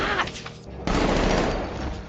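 Rifle gunfire in a film scene from Dawn of the Planet of the Apes, a loud, close, rapid burst of shots that rolls into a sustained roar of fire, with no talking.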